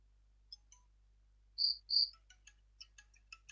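A Poco X3 phone ringtone plays: two bright electronic tones, then a quick run of short chirpy notes, clear against silence.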